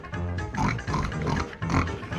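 A farm pig grunts and oinks repeatedly in close, loud bursts, with a short pause midway before another run of snuffling grunts.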